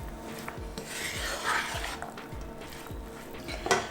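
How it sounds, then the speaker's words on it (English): A spoon scrapes and rubs through keema samosa filling of minced lamb with chopped coriander, onions and lime juice, giving close, steady rasping strokes in a regular rhythm with a sharper clink near the end. "we can add the chopped coriander, the remaining chopped onions, and the lime juice, and mix that in really well"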